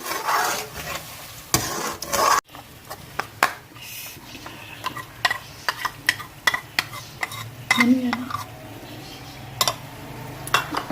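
A spoon stirs whipped cream and yogurt into a green handi curry in a pot over a very low flame, making repeated close scraping and rubbing strokes with soft wet squelches and a few knocks.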